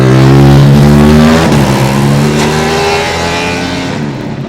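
Formula Student race car number 74 screams past close and loud on its final autocross lap, its engine note high and sustained, then dropping in pitch and fading as it pulls away.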